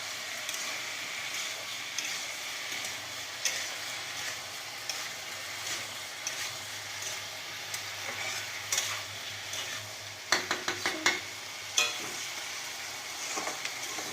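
Onion, chili, chicken, potatoes and yam frying in oil in a pan, a continuous close sizzle under low clatter, with a quick burst of rapid metal scraping and clanking near the end.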